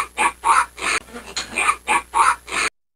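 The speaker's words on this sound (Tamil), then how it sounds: "பன்றி பன்றி" A pig grunts and oinks in a burst of about six short, evenly spaced calls, close and fairly loud, then stops abruptly.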